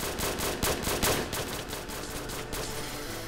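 Gunfire from guns in a Minecraft Hunger Games match, a dense, rapid burst of game shots filling the whole short stretch, loud and continuous with no talking.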